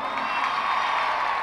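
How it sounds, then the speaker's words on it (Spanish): Large concert crowd at an indoor sports coliseum applauding and cheering, a dense continuous roar of clapping and shouts blended together, steady and fairly loud for the whole stretch. "el fortísimo aplauso para ellos."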